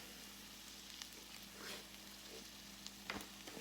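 Poblano peppers frying in a pan for chiles rellenos, a soft steady sizzle with a few faint clicks and crackles, quiet and close.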